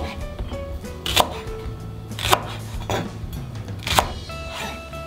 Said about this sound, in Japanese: まずはネギを切っていきます